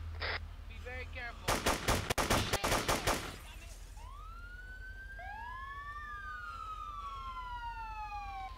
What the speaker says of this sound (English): Open fire if you can.